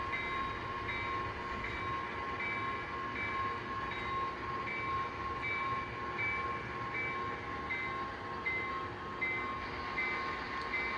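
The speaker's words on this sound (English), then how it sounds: "the switcher, which is going to be an Alco S3, locomotive number 1063, will start working and classifying this train to the correct departure tracks." An Alco S3 switcher locomotive works a freight train in a rail yard, giving a faint, distant, continuous rumble with steady tonal drones and no voices.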